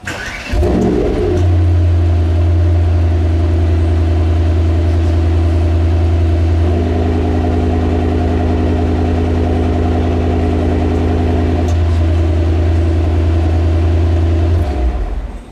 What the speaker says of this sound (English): Let's hear how this standard AMG Performance exhaust system sounds on startup and idle